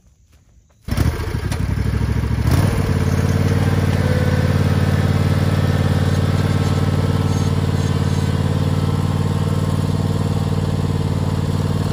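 Riding lawn mower engine starts up after a near-silent moment, then runs steadily and loudly close by for the rest of the clip, a constant droning rumble as it pulls away with a dump cart.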